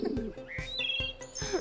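Birdsong in a sunny outdoor scene: several short chirps and thin whistled tweets rise and fall over about a second and a half, fairly faint, with a soft steady background and no talking.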